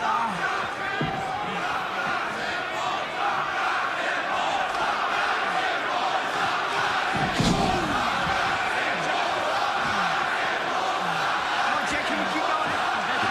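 Arena crowd at an AEW wrestling match with FTR and Jay in the ring, a steady roar of cheering and chanting throughout with a brief louder swell midway.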